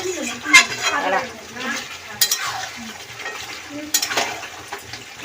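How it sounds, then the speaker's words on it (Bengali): Paneer being sautéed (kosha) in a pan for a home-cooked Bengali dish, with scraping stirs and a low sizzle throughout, sharp utensil clinks at intervals, and voices talking faintly in the background. "এখনই এত কষাচ্ছে"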